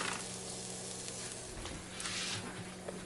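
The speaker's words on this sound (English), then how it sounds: "We're going to go ahead and add this green onions to this mix." Bell peppers and green onions fry in a pan, giving a steady, close sizzle with brief rises and small stirring scrapes for about three seconds.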